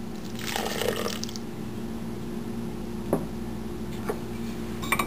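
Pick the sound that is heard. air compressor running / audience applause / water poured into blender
water poured into blender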